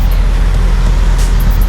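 Road traffic roars steadily at a highway rest area in Iowa, with a dense low rumble of passing cars and trucks and faint higher hiss throughout, loud and close.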